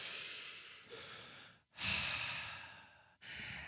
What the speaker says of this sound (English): Heavy breathing intensifies.